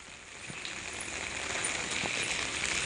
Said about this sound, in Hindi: तो इसलिए मैं भी बारिश में निकल रही हूँ